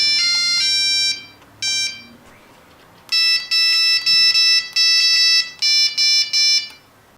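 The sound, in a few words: custom ringtone composed on Nokia 3310 phone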